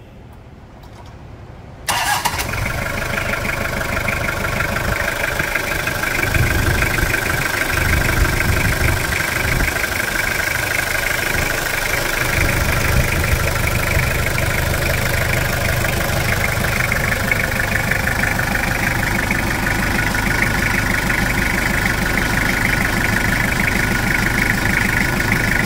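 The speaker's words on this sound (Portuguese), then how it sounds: "da partida do motor, porque tem que encerrar um vídeo de motor ouvindo a melodia" A Toyota 3L 2.8 diesel engine from a Hilux/SW4 cranks and catches after a brief quiet moment, then settles into a steady, loud idle with a constant rumble and whine.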